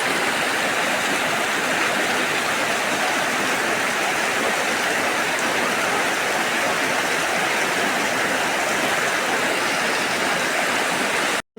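Heavy rainwater rushes strongly across a home courtyard in a downpour, a loud, dense, unbroken roar of flowing and splashing water with no voices.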